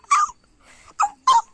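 A dog at a villa whimpering and yipping: three or four short, high, nasal yelps with a softer whine between them, close and fairly loud, with no voices.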